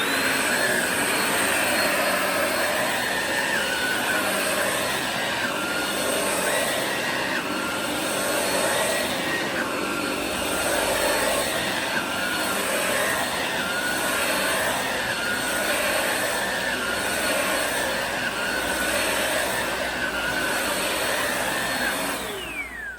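A RYOBI cordless vacuum runs on carpet, giving a loud, steady whirring drone with a high whine that holds evenly for over twenty seconds with no talking.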